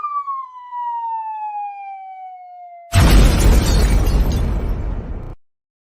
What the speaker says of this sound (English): Let's get another bomb drop on that.